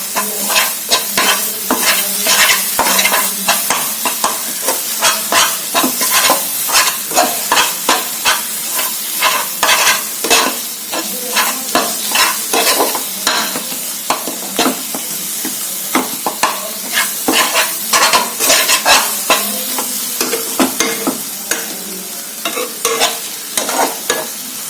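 Amritsari chole are stirred in a hot pan, with rhythmic scraping strokes of a spoon repeating steadily for about twenty-five seconds over a soft sizzle, close and loud, with no talking.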